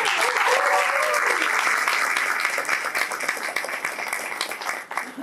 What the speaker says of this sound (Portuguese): Dê palmas pro presidente do PT, Doriel.